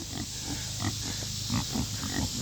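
Kunekune pigs in a farm pen give a series of short, low, nearby grunts at an irregular rhythm, set against a steady outdoor hiss, with no voices.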